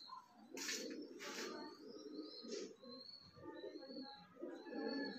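Pigeons kept by a fancier cooing softly in low, rolling phrases, with a few sharper chirps and wing or rustling bursts nearby, a light background hiss throughout.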